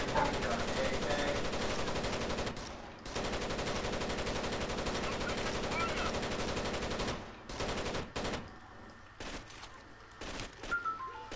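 Dense automatic gunfire and overlapping shots from the Rainbow Six Vegas 2 video game, sustained loud bursts with a couple of brief gaps, then scattered sharper shots toward the end.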